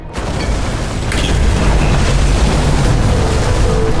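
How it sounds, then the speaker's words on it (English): Fuses blowing in the video game Nobody Wants to Die: a sudden loud bang at the start, then a heavy, sustained low rumble that fills the rest of the clip. "The fuses just blew."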